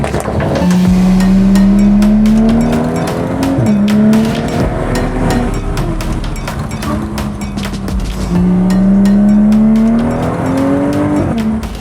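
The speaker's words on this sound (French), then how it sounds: "il y a une roue qui patine un peu" A BMW 335i drives hard with its engine roaring loudly, as one wheel spins and the tyres slip and squeal in rising, sustained bursts. The two main pulls come back to back, with a short lift between them.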